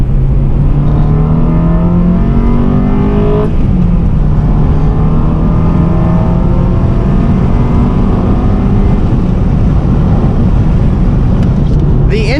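Engine intake roar from a seventh-generation Honda Civic Si (EP3) revving, a loud, continuous drone with rising and falling pitch sweeps as the throttle opens and closes, close up.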